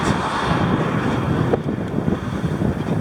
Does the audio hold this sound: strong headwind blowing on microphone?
yes